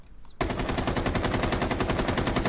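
A Rainbow Six Siege weapon fires a 30-round, tightly grouped burst. After a brief faint whistle, rapid, evenly spaced loud shots run continuously to the end, with no talking.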